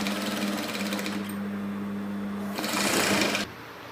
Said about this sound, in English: Then I keep sewing.